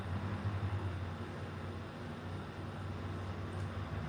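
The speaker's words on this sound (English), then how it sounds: "It sounds like the garbage truck." Quiet, continuous rumble from a garbage truck driving close by, a muffled low engine hum that holds steady for several seconds without any talking.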